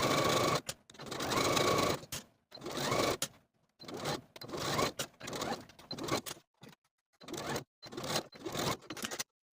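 A sewing machine sews the facing along the top of a wrap skirt in a series of short, close, start-stop bursts with brief pauses between runs.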